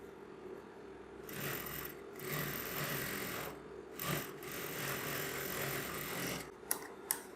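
A sewing machine stitches trim onto the corner of a Rajputi kurti, a steady close whirring run in several bursts with brief pauses between and a couple of light clicks at the end.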